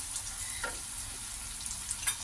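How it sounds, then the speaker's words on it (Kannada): Peanuts and urad dal frying gently over a low flame, a soft steady sizzle with faint stirring scrapes and occasional small pops, fairly quiet throughout with no talking. "ಕಡಲೆ ಬೀಜ ಉದ್ದಿನಬೇಳೆ ಎಲ್ಲ ಲೋ ಫ್ಲೇಮಲ್ಲಿ ಇಟ್ಕೊಂಡೇ ಫ್ರೈ ಮಾಡ್ಕೋಬೇಕು"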